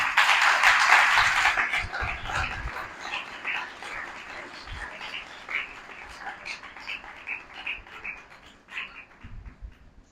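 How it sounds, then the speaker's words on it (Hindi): A church congregation at a Catholic Mass in Karachi gives Father Robinson a round of applause, a loud burst of clapping at first that thins into scattered claps under a speaking voice. "उसके लिए ज़ोरदार तालियां"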